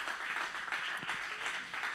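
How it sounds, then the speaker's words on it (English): A church congregation claps hands during a sermon's call to praise, producing continuous, even applause that sounds soft and somewhat distant throughout. "Come on, clap your hands."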